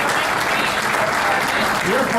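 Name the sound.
crowd applauding students at light rail opening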